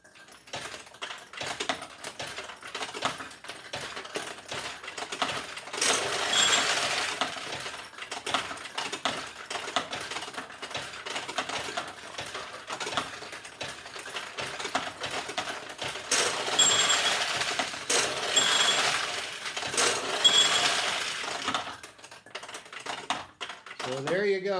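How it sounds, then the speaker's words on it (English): A 1974 Nishijin Model B vintage pachinko machine in play, its steel balls clattering and rattling in a dense, continuous patter with brief busier bursts, close and moderately quiet, while a voice talks now and then. "There's your new pachinko machine."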